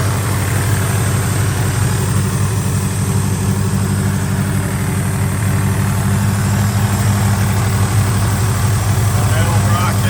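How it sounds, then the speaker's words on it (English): A 1975 Pontiac Firebird Formula V8 idles with a loud, steady, low exhaust burble, close and continuous throughout, with faint voices in the background. "Got some good sounding exhaust on it."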